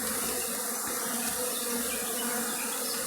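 A honeybee swarm at an abbey hums as it is drawn into a hive raised off the ground, producing a dense, continuous buzz of many bees close by, steady for the whole stretch.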